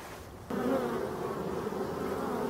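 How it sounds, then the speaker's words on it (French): Large bees on orientation flights buzz in a wild forest spot, a continuous close droning hum that swells in abruptly after a quieter start and holds steady with slight wavering. "Vol d'orientation, on voit des grosses abeilles."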